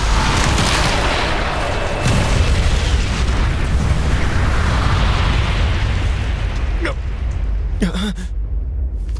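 A loud, sustained whooshing wind blast attack effect with explosive bursts roars throughout an animated action scene, with sharper impacts near the end.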